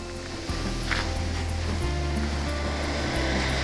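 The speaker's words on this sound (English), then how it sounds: "The waters of the River Gowie flow past the mill, turning this giant wheel" River water rushes steadily past a large watermill wheel, a continuous broadband wash with low rumble and no talk.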